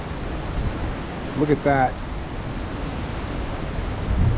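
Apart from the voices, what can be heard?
tropical storm wind and floodwater rushing over rice field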